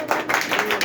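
A short burst of audience clapping fills a lecture hall, a quick patter of many hands lasting under a second.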